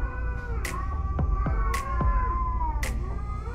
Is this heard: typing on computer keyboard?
no